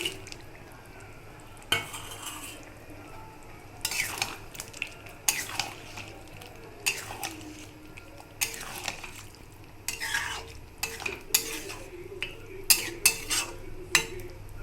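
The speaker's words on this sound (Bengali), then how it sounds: "এবার ভেজে রেখে কাঁকড়াগুলো দিয়ে দেবো।" Fried crabs added to a cooking pot and stirred, a series of clattering knocks and scrapes of a spoon against metal with a wet bubbling underneath, close and uneven.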